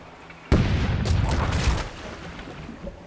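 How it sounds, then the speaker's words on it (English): A sudden loud boom opens a dense burst of rumbling ship cannon blasts in the video game Rogue Waters that roll on and slowly settle into a lower, sustained din. "Let's hear those cannons roar."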